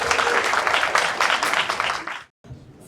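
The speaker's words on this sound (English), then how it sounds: "I want to give a big round of applause to everyone who participated and Candace." Enthusiastic applause from a crowd, steady and loud for about two seconds, then breaking off into brief silence before a sudden burst at the very end.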